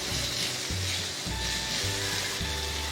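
Onions sizzling and frying in hot oil in a pan for homemade potato samosa filling, a steady loud crackling hiss with low stirring bumps, no talking.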